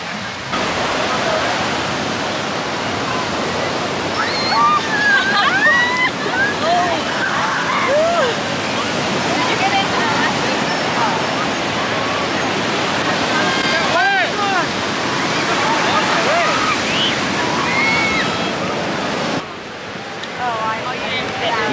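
Ocean surf at Mission Beach in San Diego rushes in a steady, loud wash of broadband noise that holds throughout, with faint voices blended in.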